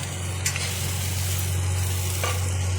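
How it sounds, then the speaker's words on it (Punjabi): Green chillies fry in a pan with a close, continuous sizzle, a constant low hum running beneath it and a couple of brief scraping stirs, with no one speaking. "ਇਹ ਮਿਰਚਾਂ ਵੀ ਖਾਣ ਵਾਸਤੇ ਫਰਾਈ ਕਰਦੇ"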